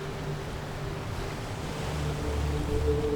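Sea waves wash in a soft, continuous rush at a steady moderate level, with a low rumble underneath and no voices, setting the backdrop for a guided ocean meditation.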